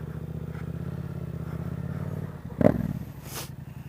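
A Yamaha FZ07 motorcycle engine runs at a steady low idle-like rumble, close, with a brief clunk and rise in loudness near the end, no talk.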